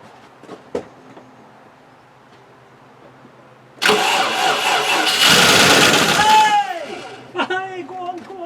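A Range Rover engine cranks and tries to start after an electronic control unit repair, a loud sustained churning burst near the mic that sags and fades out, with faint clicks before it and a voice afterward.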